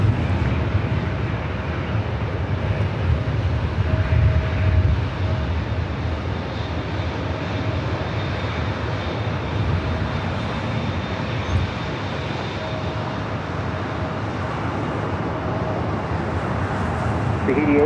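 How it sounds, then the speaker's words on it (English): An Air Tahiti airliner on arrival at Los Angeles International Airport, a steady broadband jet roar rumbling throughout with a faint tonal whine, continuous and fairly loud with no clear approach peak, amid distant airport traffic noise. "We have the other Air Tahiti coming in, number 2 for arrival."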